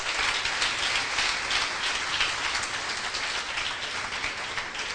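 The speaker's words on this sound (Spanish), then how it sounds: "Den un aplauso fuerte al Señor." A church congregation applauding during a sermon, a broad continuous wash of many hands clapping at once, sustained and even for several seconds with no voices over it.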